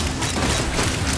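Weapons opening fire in a video game, a loud, dense burst of booming, crackling blasts packed into a single short moment with no gaps.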